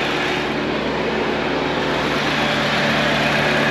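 Vehicle engine idling smoothly after sitting unused for ten years, a steady, even, fairly loud drone with no misses, close by.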